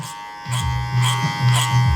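Electric hair clippers buzz loudly and close, cutting hair over a comb in a barber's blending pass on the back and sides, with the motor pitch swelling in three or four rhythmic strokes as the blade moves through the hair.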